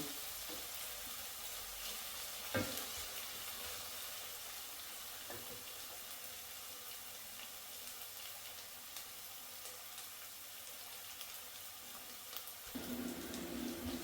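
Onions frying in a pan for a fish curry, a faint steady sizzle continuing throughout with a few soft clinks.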